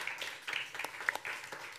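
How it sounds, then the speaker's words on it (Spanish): A small conference audience gives brief, moderate applause, a soft scattered patter of clapping lasting under two seconds. "un aplauso para ellos"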